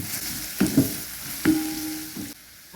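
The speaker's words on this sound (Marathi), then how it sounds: "आपला कांदा भाजतोय" Finely chopped onion frying in a pan for bhakri poha, with soft sizzling broken by a few sharp stirring scrapes and clatters, fairly quiet and close.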